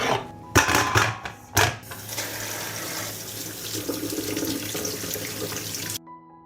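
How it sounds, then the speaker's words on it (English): Tomatoes washed under a running kitchen tap, with a few loud knocks and splashes at the start, then a steady close rush of water into the sink that cuts off abruptly near the end. "I will wash the tomatoes."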